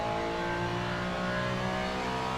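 Ferrari 296 GT3 race car engine in the Le Mans Ultimate game at Le Mans, a loud, sustained high-revving roar held steadily close up for the whole stretch, with no talk.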